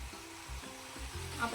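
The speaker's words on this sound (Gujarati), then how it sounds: "હવે આપણે થોડું પાણી અંદર રેડી" Water poured into hot bitter gourd masala in a cooker sizzles softly and steadily, with low rhythmic bubbling pulses underneath and a brighter hiss building at the end.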